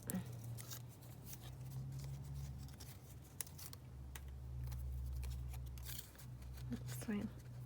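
Scissors cut paper for a mixed media art journal page, a series of close snips and crisp rustles while a person talks quietly over them.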